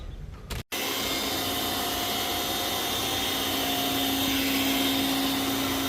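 A carpet-cleaning vacuum extractor roars continuously and loudly while pulling dirt from a carpet, after a brief cut-off at the start, with a steady drone and a faint rising whine near the end.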